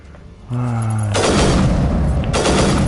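Loud sustained gunfire roars in the video game Mass Effect 1 Legendary, a sniper rifle among the weapons, with a tonal whine at the start before dense booming bursts fill the rest.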